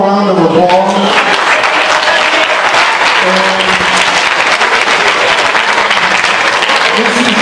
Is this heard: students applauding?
yes